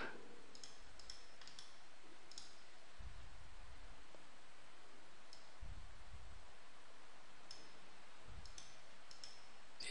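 Computer mouse clicks, a few sparse light ticks spread through a quiet background with faint low thumps, near and soft.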